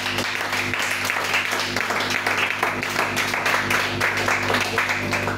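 A church congregation applauds, a dense and steady round of many hands clapping at close range that keeps going without a break, with a voice faintly under the clapping.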